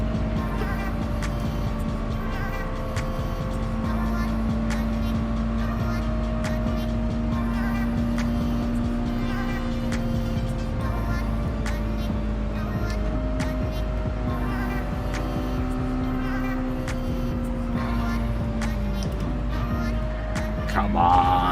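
A race car engine in Gran Turismo 7 drones loud and sustained through a drift, its pitch holding steady before rising near the end.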